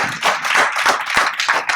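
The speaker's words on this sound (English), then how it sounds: "Hey, let's give the fellas a round of applause, bro." Audience clapping for a group of men at a church-style event, a dense, lively round of applause with a few sharper individual claps standing out near the end, close and steady for under two seconds.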